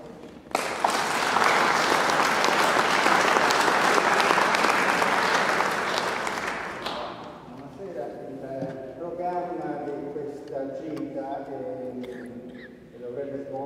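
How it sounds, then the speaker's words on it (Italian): An audience at an evening event applauds loudly and steadily for several seconds, then the clapping fades as a speaker resumes talking. "di nuovo un applauso"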